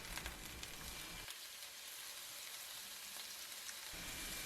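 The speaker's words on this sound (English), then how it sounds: "I'm just here going to saute since it's not gonna take much time to cook." Chicken and vegetables sautéing in a pan for a Turkish eggplant stew, giving a steady close sizzle that dips in level for a few seconds and then picks up again.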